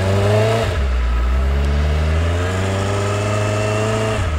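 A Benda LFC700 motorcycle engine revs to about 3000 rpm. After a short blip, a close, loud, throaty drone rises steadily in pitch and holds on its own.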